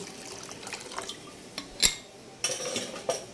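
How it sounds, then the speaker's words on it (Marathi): Water poured into cooked dal in a pan produces close splashing and trickling, with a few sharp clinks of metal and glass scattered through the pour. "आता या डाळीत मी पाणी जे आहे ते ॲड करून घेणार आहे"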